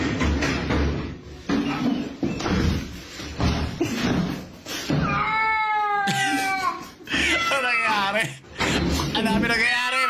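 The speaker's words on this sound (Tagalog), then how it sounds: "May pusa." A cat meows in several drawn-out, wavering calls near the middle and end, close and fairly loud, heard over steady Filipino conversation and background chatter at a children's party.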